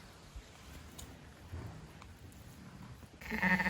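A ewe with her newborn set of three strong lambs, bleating close by near the end after a quiet stretch of faint shuffling.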